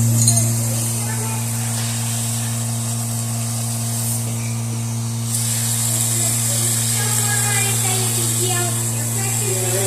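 A Vevor 2024 oil-free air compressor runs with an even, steady mechanical hum and whine, fairly loud and close, while people talk over it.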